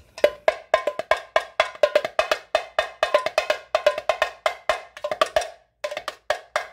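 Rapid, steady sequence of bright, dry hits on a small 6 cm tall Gope tamborim drum played with a finger, about twenty strikes with a brief pause near the end.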